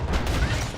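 Dense gunfire from a town shootout in Red Dead, a continuous loud barrage of overlapping shots lasting under a second with no pauses.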